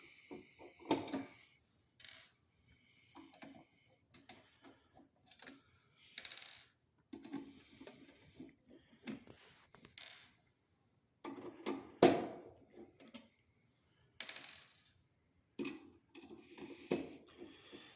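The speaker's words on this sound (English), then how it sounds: "These 6 screws here anchoring both panels will need to come out." Screws are backed out of the panels of an ETwater smart controller, giving scattered small metallic clicks, ticks and little clatters with short silent gaps between them, close and quiet.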